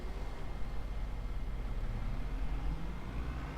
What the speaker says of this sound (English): Let's get in the big boy. I like his engine noise better.